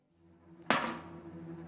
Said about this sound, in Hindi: थोड़ा इधर से हथौड़ा मार लेता हूँ